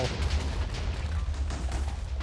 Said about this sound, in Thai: เหมือนระเบิดลงไปเรื่อยๆ ใช่ไหม